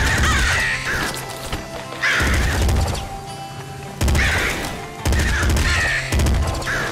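Harsh crows cawing in the Nuclear Throne video game, loud repeated calls in a steady pattern mixed with crunchy game impact noises.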